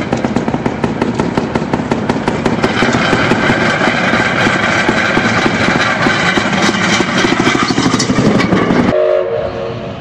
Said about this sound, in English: The speeder car is coming, so you're going to have to wait for it to cross.